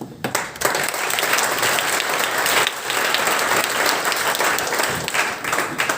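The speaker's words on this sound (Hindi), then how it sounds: "तालियां मेरे लिए बोलिए कि मैडम के लिए बोलिए?" Sustained, dense applause from a crowd of students in a hall at IIT Patna as a physics professor is introduced, loud and continuous for about six seconds with no speech over it.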